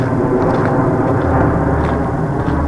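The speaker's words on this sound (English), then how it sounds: "Oh, there is an airplane." Airplane passing over a Montreal street near Pierre Elliott Trudeau airport, a steady broad low rumble with city background noise, no voices heard.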